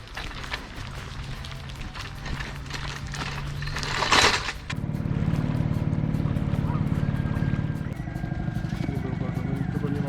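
A sailboat's outboard motor drones steadily on the water, loud and close, with people talking over it and a brief splashy burst midway.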